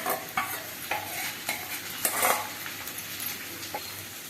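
Leftover sambar, rasam and ivy gourd stir-fry are stirred into a frying pan on low heat for masala rice, with a utensil clinking and scraping against the pan in irregular strokes over a soft sizzle.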